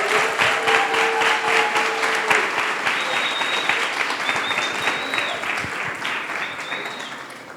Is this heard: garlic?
no